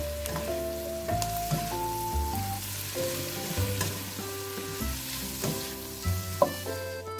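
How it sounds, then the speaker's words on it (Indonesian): Shrimp, meatballs and sausage stir-fry for mie goreng, a continuous sizzle with stirring scrapes heard under steady background music, with no talking. "Lalu masukkan udang, bakso dan sosis yang sudah dimasak tadi ya."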